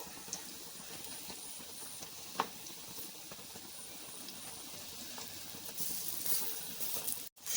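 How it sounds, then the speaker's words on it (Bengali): Lentil fritters (bora) frying in hot oil, steady soft sizzling throughout, growing a bit louder near the end as they are turned over. "উল্টে পাল্টে আর এক পাশটাও ভেজে নেব"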